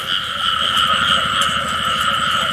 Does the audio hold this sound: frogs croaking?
yes